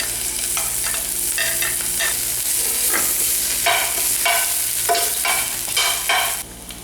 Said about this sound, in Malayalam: എണ്ണ ചൂടായതിനു ശേഷം നമ്മൾ ചതച്ച് വെച്ച ഇഞ്ചി ഇടുക